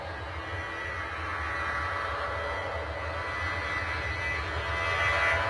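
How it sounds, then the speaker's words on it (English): Aircraft taking off at London Stansted airport, heard as a steady distant broadband engine roar that slowly swells in loudness, with no voices. "Let's go to that takeoff right now."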